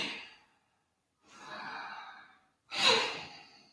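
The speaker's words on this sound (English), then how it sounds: "You do a slow exhale or a sharper exhale." Breathing during a morning stretch routine: a short breathy release, a slow drawn-out exhale, then a sharper, louder exhale with separate pauses between them, heard close and without any talking.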